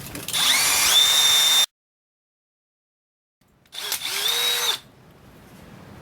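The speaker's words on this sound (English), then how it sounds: "Then we'll get our second hole drilled." A power drill whirs loudly in two bursts separated by a short silence while drilling holes in a new rear corner for a Fairmont MT19A railroad motorcar, its pitch rising slightly as each burst spins up.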